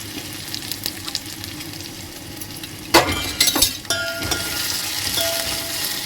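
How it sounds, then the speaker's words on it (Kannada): Garlic, green chilies and curry leaves sizzle loudly in hot oil, with a steady frying hiss, a burst of crackling spatter near the middle, and a few metallic clinks of a utensil against the pan. "ಸ್ವಲ್ಪ ಎಣ್ಣೆಲಿ ಘಾಟೆಲ್ಲ ಹೋಗ್ಬೇಕು. ಮೆಣಸಿನ್ಕಾಯಿದ್ದು ಫ್ರೈ ಮಾಡ್ಕೋಬೇಕು."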